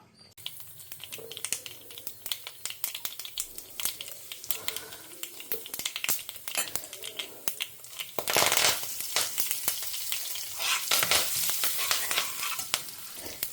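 Mustard seeds and fenugreek crackle and sizzle in hot oil as tempering for sambar, with quick sharp pops at first, then a louder, denser frying hiss with stirring scrapes.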